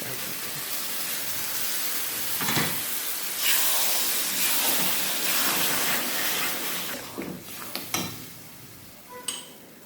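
A kewra batter for pickle hits a hot pan with a loud hissing sizzle that swells and holds, then gives way to scattered clinks of utensils against the pan.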